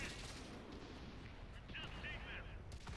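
Artillery shelling in the World of Tanks video game, dense rumbling blasts and crackling impacts filling the clip, with a brief high whine partway through, all fairly loud and continuous.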